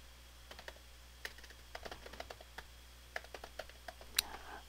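Steady typing on a computer keyboard while a chat message is entered in Office 365, with a quick run of light, close key taps in an irregular rhythm and no voices.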